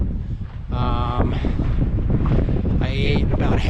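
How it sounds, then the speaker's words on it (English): Strong wind buffeting the microphone on a mountain trail during a Pacific Crest Trail thru-hike, loud continuous rumbling gusts with faint tonal whistling. "So we're back in the wind."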